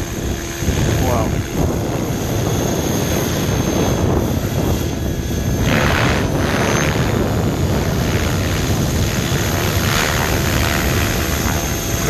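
T-Rex 600 ESP 3G flybarless RC helicopter on 12S power with its rotor spinning loudly and steadily close by, a constant dense whine and buzz throughout, with a voice briefly audible beneath.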